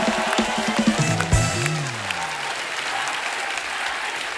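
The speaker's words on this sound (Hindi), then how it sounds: "जोरदार तालियां रणबीर और अनुभव बस्सी के लिए।" Studio audience on a televised comedy talk show applauds loudly for Ranbir Kapoor and Anubhav Singh Bassi. A brief musical flourish opens the moment, then dense, sustained clapping holds steady and fills the room.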